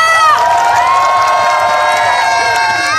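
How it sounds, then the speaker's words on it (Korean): Concert crowd at the 14th Jukju Daegoryeo cultural festival in Anseong, a loud sustained mix of cheering and whooping, with shouts rising and falling throughout. "박수 함성이 얼마나 더 커졌는지 한번 확인해 보겠습니다"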